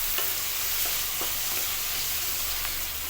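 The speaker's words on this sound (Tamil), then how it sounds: "போட்டு நல்லா கிண்டி விட்டுக்கலாம்." Food sizzles steadily in a hot pan while a spoon stirs it, with a few faint scrapes and knocks over the constant frying hiss.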